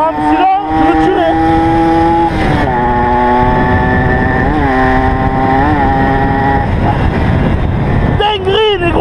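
A Chappy moped fitted with a Polini 62cc engine kit, ridden hard: a loud, close, buzzing two-stroke whine rising and falling through revs and gear changes, dipping briefly at the start and end.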